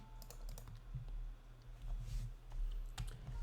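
Rapid typing of code on a computer keyboard, close and steady clatter of keystrokes over a low background hum, with no voices.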